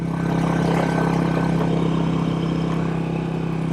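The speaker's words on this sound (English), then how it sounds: "Oh, of course there's a truck coming." A truck rumbles along a country road beside a 1959 Royal Enfield Indian Fire Arrow motorcycle, a steady low engine drone holding at close range throughout.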